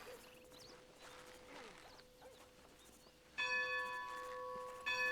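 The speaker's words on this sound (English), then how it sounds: "I heard the whistle and the bell." A synthetic bell chimes twice, bright and ringing, after a stretch of faint clattering sounds in a Diablo County roleplay video game.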